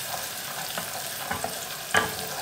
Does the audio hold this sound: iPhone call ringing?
no